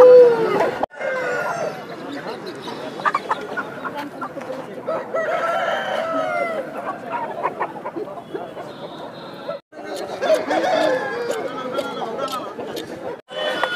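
Aseel roosters at a Jharkhand poultry market crow repeatedly amid clucking fowl, with someone talking steadily over the birds and market chatter around them.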